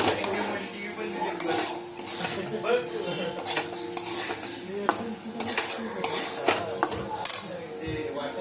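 Fried masala stirred in a pan with added chilli powder and salt, a continuous close clatter and scrape of a spoon against metal over a light sizzle, loud and rhythmic throughout.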